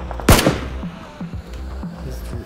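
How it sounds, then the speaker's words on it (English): Gunfire in the battle royale game PUBG: one loud, close shot burst at the start, followed by a few fainter, distant cracks and whizzes exchanged in a firefight. "Oh, he's shooting back."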